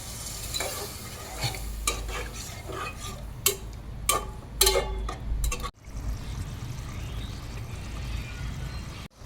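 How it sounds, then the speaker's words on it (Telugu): Water is poured into a curry of tomato and chili powder frying in a pan, and a spoon stirs it with scraping clinks. Steady sizzling continues throughout, then the sound drops to a quieter bubbling simmer. "ఇప్పుడు వాటర్ పోసుకుందాం"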